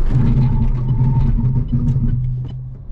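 An electric car brakes hard from 100 km/h to a stop, a loud low rumble of tyres and road noise that steadily fades as it slows, with no talking.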